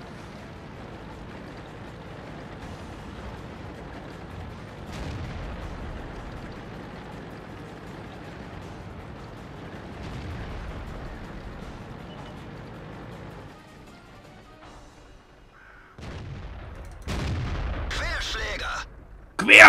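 Tank cannon fire and shell impacts in the video game World of Tanks, a few sharp bursts over a steady engine rumble, louder near the end.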